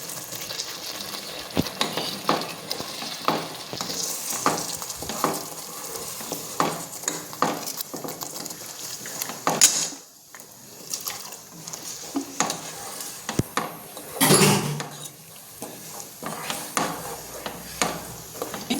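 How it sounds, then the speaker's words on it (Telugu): A thick cashew and poppy seed paste is stirred into paneer masala curry in a pan, making repeated scraping and sizzling sounds with spoon taps against the pot. The sounds come in an uneven rhythm, up close and moderately loud, with no talking. "ఇప్పుడు జీడిపప్పును గసగసాలు ఫైన్ పేస్ట్ చేసి పెట్టుకున్నాం కదండి, అది ఇందులోకి ఇట్లా మిక్స్ చేసేసుకోవాలి."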